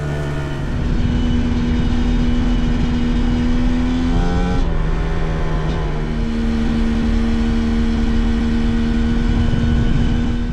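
A Fantic XE300 dual-sport motorcycle engine drones loud and close while riding, its steady tone dipping and shifting pitch with a gear change midway before climbing again.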